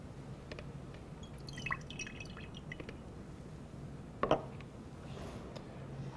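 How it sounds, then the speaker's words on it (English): Water drips and trickles inside a salad spinner's container after spinning, a few faint separate drops and splashes over a quiet background. "The water collects in the bottom of the container."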